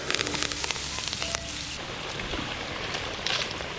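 Steady rain patters down around an outdoor cooking spot where Maddur vada are frying, a dense continuous hiss with scattered sharper drops, moderately loud and without talk.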